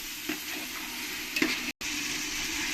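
Tomatoes being stirred into a spice mix in a frying pan while cooking mutton biryani, a steady close sizzle and scrape with a couple of louder stirring strokes and a brief cut of silence.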